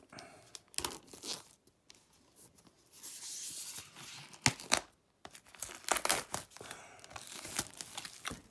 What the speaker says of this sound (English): Let's open up this steelbook and take a look.